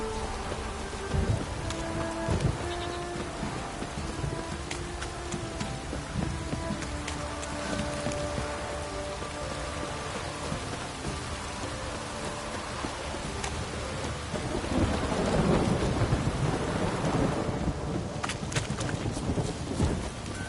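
Steady rain pours and patters in The Witcher 3, with low thunder swelling and rumbling in the background toward the end. No one speaks.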